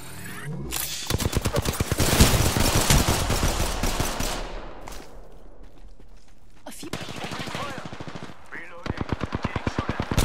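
Rapid automatic gunfire aimed at the player in Apex Legends, with a dense, loud burst for the first four seconds, then quieter scattered noise, then more bursts of rapid fire near the end.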